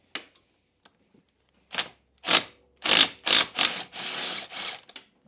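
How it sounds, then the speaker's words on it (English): A ratchet wrench turns the cylinder head bolts out of a four-wheeler engine, giving a run of loud, close clicking bursts that come in quick succession after a quiet start. "I'll get the top 4 cylinder head bolts"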